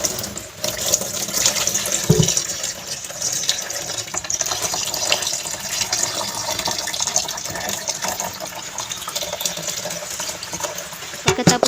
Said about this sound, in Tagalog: Huhugasan po natin ang bigas ng 2 beses.